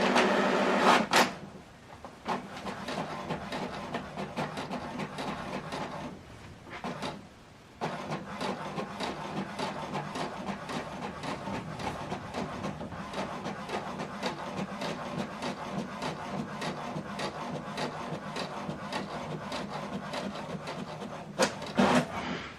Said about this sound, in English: This is the document we printed out, double-sided, from laptop to HP Deskjet printer.